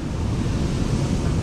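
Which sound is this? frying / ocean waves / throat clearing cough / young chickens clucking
ocean waves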